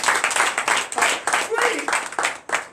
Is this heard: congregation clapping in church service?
yes